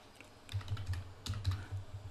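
Keys tapped on a computer keyboard while entering a month name into a spreadsheet cell, a short burst of quick, close clicks in two clusters with no talking.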